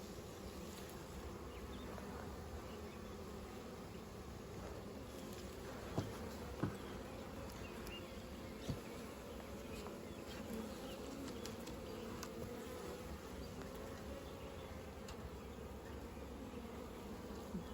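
Honeybees buzz around an opened hive in a steady, low, dense drone close by, with a few faint clicks and knocks from handling frames and tools, no talking over it.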